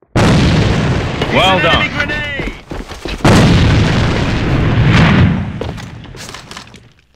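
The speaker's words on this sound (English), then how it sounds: "Enemy grenade." A grenade explodes in the online shooter AVA with a loud boom that rings out and fades, while players keep talking over team voice chat.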